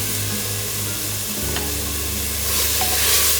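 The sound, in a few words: sautéing tomatoes in a pot for veg biryani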